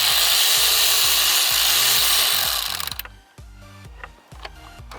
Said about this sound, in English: a cordless ratchet like this. This is the best, because you'll be here forever trying to get that bolts out